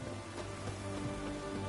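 Steady rain falls in the Witcher 3 video game, a constant, even hiss of drops on surfaces with no talking.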